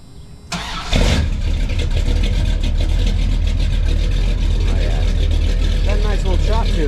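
A 1984 Dodge D150 pickup with true dual exhaust running back to Flowmaster 44 mufflers cranks over and settles into a loud, steady, close-up idle with a low rumble, with some faint speech over it.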